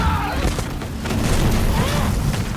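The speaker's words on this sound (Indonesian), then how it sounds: "tanpa sengaja nyala api itu mengenai dinding lalu meledak" In a film scene, a flare strikes a magnesium cave wall and sets off a loud explosion, a deep rolling boom with crackling debris that rumbles on across the whole stretch, with voices faintly mixed in.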